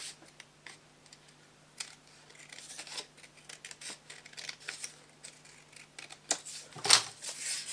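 Scissors snip through a cardboard box in a string of sharp, irregular close-up cuts, with brief crinkling between them and louder snips near the end.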